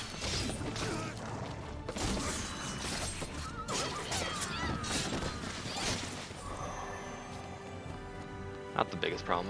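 A horse whinnies loudly in Drakengard 3 amid clattering hooves and mechanical game noise, with a voice speaking over parts of it.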